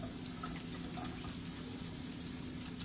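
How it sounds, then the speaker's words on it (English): Tap water runs steadily into a sink during hand washing for clinical hand hygiene, a continuous soft splashing flow, close and even, with no talking. "I'm going to perform my hand hygiene now. Making sure I get all areas of my hands and wrists wet."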